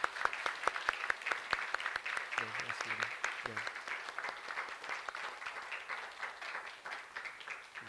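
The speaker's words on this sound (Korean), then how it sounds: "우리 박수로 한번 좀 환영하면 좋겠습니다" Applause from a church congregation welcoming a member at a Sunday worship service: sustained, fairly quiet clapping with a few sharp early claps, and brief spoken words from a man over it.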